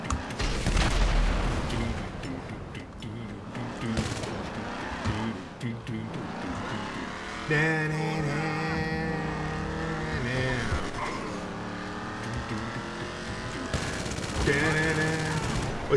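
Automatic gunfire from a machine gun in GTA 5 Online, a long sustained burst mixed with game music, engine noise and tire sounds, with a player talking over the action.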